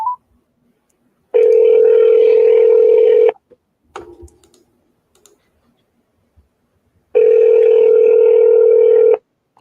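A telephone dial tone sounds while a call is placed to a land seller: two long steady tones separated by a few seconds, with brief clicks and faint handling noises between them.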